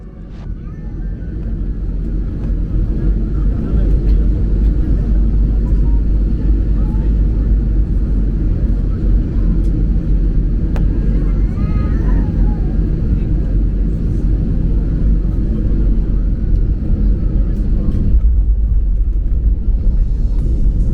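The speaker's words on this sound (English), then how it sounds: "we are already descending, and believe me, this landing was one of the most magnificent I've ever seen" A Philippine Airlines passenger jet descends toward Boracay, heard from inside the cabin as a loud, steady low engine roar and rumble that holds unbroken throughout the approach.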